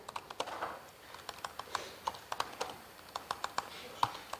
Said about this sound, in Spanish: gracias, Estillo, por este teclado maravilloso.